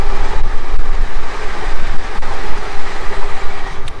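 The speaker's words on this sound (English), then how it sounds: "Train!" A train passing nearby with a steady, loud rumble and rolling clatter that fills the whole stretch, with no talking over it.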